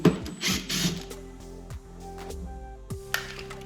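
Screw being undone on a Mercedes R-Class headlight, heard as quick ratcheting clicks and metallic mechanical ticks from a hand tool, close and fairly quiet with short pauses between bursts.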